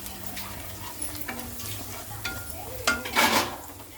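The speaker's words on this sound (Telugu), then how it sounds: "ఇలా చూడండి ఫ్రై చేసుకోవాలి, బాగా చిట్పట్లాడేలాగా ఫ్రై చేయాలి." Spices fry in a pan with a light crackling sizzle and irregular scraping stirs, building to a louder burst of popping and spatter near the end, with a low hum beneath and no speech.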